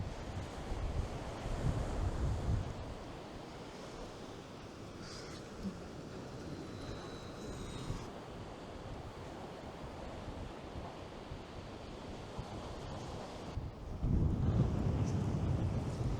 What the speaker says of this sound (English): That wind has calmed down a little bit.